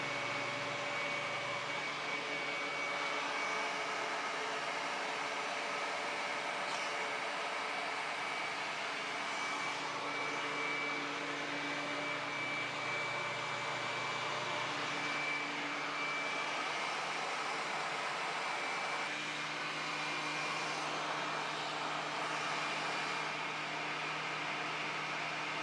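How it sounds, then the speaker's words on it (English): A wood planer shaves a thin pass off a bass guitar neck, a steady loud machine whir with broadband hiss running continuously throughout, slight shifts in tone as the cut proceeds. "I've got my planer set so that it's just going to barely snip off a little bit of this"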